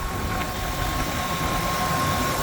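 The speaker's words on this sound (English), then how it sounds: "very nice, smooth idling." A 2000 Ford F250 truck engine idling smoothly after a water pump replacement, a steady even rumble up close with a faint constant whine and no voices.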